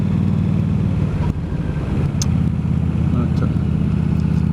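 An old Yamaha motorcycle engine drones steadily while riding, a loud continuous low rumble with wind noise throughout and a brief dip partway.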